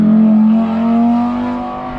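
A Porsche 911 RS sports car at a supercar event at Shelsley Walsh hill climb, engine held at a steady, loud rev with a smooth droning tone that swells slightly and eases off.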